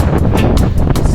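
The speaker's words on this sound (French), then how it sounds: "Ici, il y a du vent, il fait bon au moins." Strong wind buffets the microphone on a mountain summit reached by mountain bike, a loud continuous roar with gusty bursts throughout and no talking.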